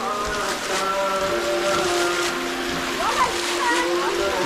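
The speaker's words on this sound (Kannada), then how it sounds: "ವಾಟರ್ ಫೌಂಟೇನು ಸಖತ್ತಾಗಿದೆ" Water from a decorative fountain splashes and rushes steadily nearby, a constant hissing spray under a voice talking over it.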